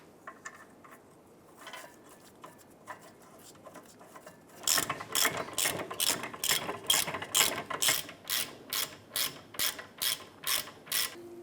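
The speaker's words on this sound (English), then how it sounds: "Torque the bracket to knuckle bolts to 62 foot-pounds." A ratchet tightens the rear brake caliper bracket-to-knuckle bolts on a 2008-2013 Nissan Rogue, first in soft scattered clicks, then a close, loud run of rapid, evenly spaced ratcheting bursts.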